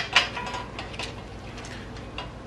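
A ratchet works an 8 millimeter bolt loose on a car engine bay, giving a close run of light, irregular clicks and ticks with a sharper click at the start.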